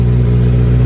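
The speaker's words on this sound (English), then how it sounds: "I'll give it a couple of revs" Honda CBR650R motorcycle fitted with an aftermarket Akrapovic exhaust, a steady, loud, close engine drone at fairly constant pitch, with no voices.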